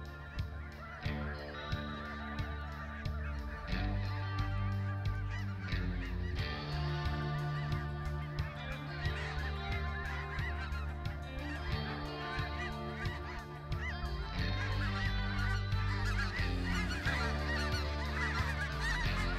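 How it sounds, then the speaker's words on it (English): Many geese honk continuously during a goose hunt, a dense chorus of overlapping calls that grows louder toward the end, with no talking. "We got geese coming."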